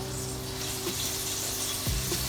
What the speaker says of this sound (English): let that fry away now until it's at the texture that we want it to be